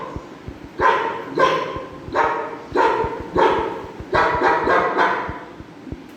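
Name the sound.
people imitating a dog barking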